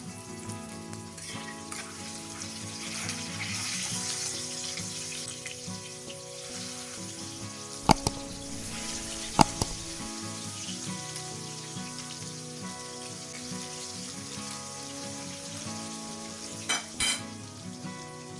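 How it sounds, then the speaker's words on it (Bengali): Fish pieces for a Bengali macher jhol fry in hot oil, sizzling steadily at close range with occasional stirring and a few sharp clicks and taps, with no voices. "সবগুলি মাছ একবারই ভাজা যাবে না দুইবারে মাছগুলোকে ভেজে তুলে নেবো"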